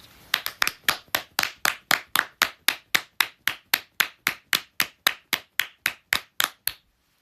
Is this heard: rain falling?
no